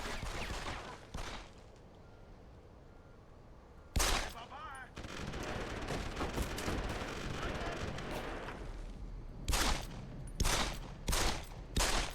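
Gunfire in the space game Starfield: a short run of sharp shots at the start, a heavy blast near four seconds, then a rapid cluster of loud bursts toward the end over a steady background rumble.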